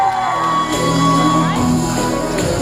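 Audience fans at a university beauty pageant grand final shout and whoop in support of contestant number 1, a loud, continuous crowd roar with overlapping yells and a host's voice speaking over it.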